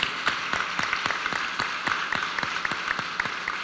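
Audience at a school event in Cholula applauds parents for their contribution to rebuilding and expanding the school facilities, with steady scattered clapping and sharp individual claps standing out over the crowd.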